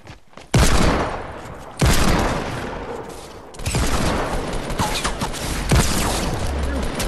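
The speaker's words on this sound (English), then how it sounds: "I was shooting my hand cannon!" Heavy hand cannon shots in a PlayStation 4 shooter crack out loudly, two sharp blasts followed by a busier stretch of gunfire and later another shot, with players talking over the action.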